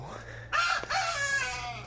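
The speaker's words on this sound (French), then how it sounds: "En ce moment, les poules, enfin, Tibi et Tilo, ils sont là" Hens and a rooster clucking in a backyard garden, close and fairly loud, with a brief sharp knock partway through and a low hum underneath.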